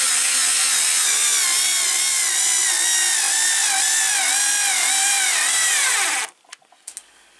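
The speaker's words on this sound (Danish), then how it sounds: "så tager det godt nok lang tid at skrue de her skruer i" A SKIL 2710 cordless screwdriver drives screws in one long, steady, loud whirring run that rises and dips slightly in pitch, then cuts off abruptly, leaving a few faint clicks and knocks.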